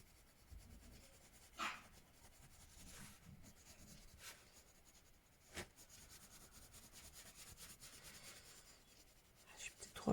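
Yellow colored pencil shading across paper, a faint, soft, scratchy rubbing that continues through the stretch with a few brief louder scrapes and taps.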